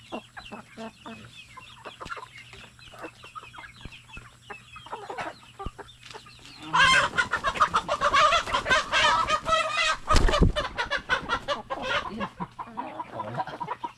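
Pet chickens, including a rooster, clucking and squawking close by in a backyard flock, with sparse calls at first and then a dense, loud burst of overlapping clucks and cackles.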